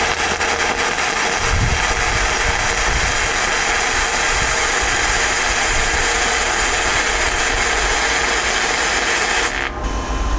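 Gasless flux core arc welding at high amperage crackles and sizzles in a steady, loud, unbroken buzz for about ten seconds, then cuts off abruptly as the arc stops.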